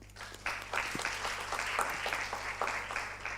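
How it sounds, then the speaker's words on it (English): Applause from the audience at a science lecture for a teacher training workshop, a steady, fairly quiet wash of many hands clapping with a low hum underneath. "Can we have an applause?"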